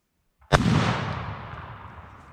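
A single loud, close gunshot fired at a turkey during a hunt: a sharp crack followed by a long, fading boom that echoes outdoors, with no talk during the blast.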